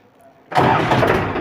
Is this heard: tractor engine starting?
yes